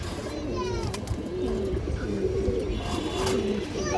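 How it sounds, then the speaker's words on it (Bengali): Several pet pigeons of fancy breeds cooing in their cages, a close, continuous chorus of soft, low rolling coos that overlap and repeat with little pause. "হাই কোয়ালিটি গড়ার কবুতর আছে লাল গিয়ারের"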